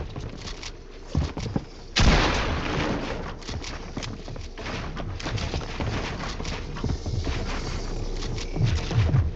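Gunshots in a Fortnite zero build 1v1 match: one loud, sharp burst of fire followed by scattered shots over steady background game noise.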